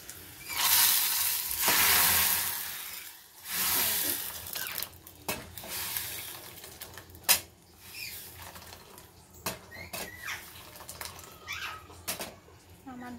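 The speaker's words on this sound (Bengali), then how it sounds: "আমার ডালে ফোড়ন দেওয়া হয়ে গেছে।" Whole spices tempering in hot oil for dal, a bright hiss of sizzling at the start settling into scattered pops and crackles, close by, with a few louder clatters and a voice speaking quietly in between.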